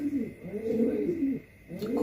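A racing pigeon coos close by in soft, throaty, rolling phrases, two bouts separated by a brief pause.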